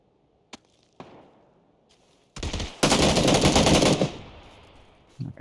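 Gunfire in the video game PUBG Battlegrounds: a few sharp isolated shots, then a loud, dense burst of rapid automatic fire that cuts off abruptly, followed by quieter trailing sounds.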